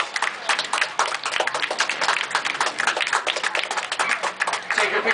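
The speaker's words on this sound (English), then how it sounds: "Ladies and gentlemen, a big round of applause for Sherry Schultz" Crowd at a 4-H horse riding demonstration claps steadily for a legendary rider, a moderately loud, even patter of many hands lasting several seconds without voices.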